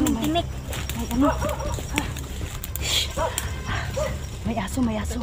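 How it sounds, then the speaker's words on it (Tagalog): A dog barks and yips repeatedly, close by, while people talk over it in urgent voices. "May aso, may aso."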